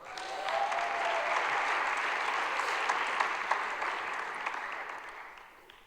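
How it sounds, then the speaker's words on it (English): An audience gives a sustained round of applause for Charlie Batch, a dense, even wash of many hands clapping at moderate distance that holds steady for several seconds, then tapers off. "Let's one more round of applause for Charlie Batch."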